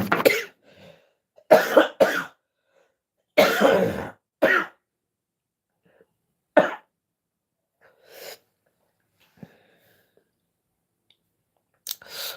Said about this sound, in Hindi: वाइफ का नाम सुनते ही खांसी आने लगी।